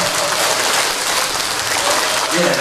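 Dense, sustained applause fills the hall from the audience at a Rotary club lecture, a loud, even wash of many hands clapping together with faint voices mixed in.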